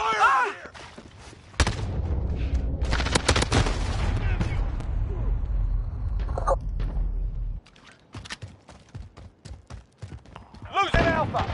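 Gunfire in an online PS4 shooter game: sustained rapid automatic fire, loud and close, with further scattered shots and brief game voice callouts.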